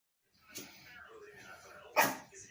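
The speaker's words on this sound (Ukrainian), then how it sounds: "Фу, не гавкай, то гарний котик, то Максик." A dog gives a single sharp, close bark at a cat near the end, following a stretch of someone talking.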